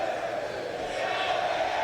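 Esports arena crowd at a Counter-Strike grand final, MOUZ versus Falcons at PGL Cluj-Napoca 2025, roaring in a steady, dense cheer throughout, with a voice speaking over it.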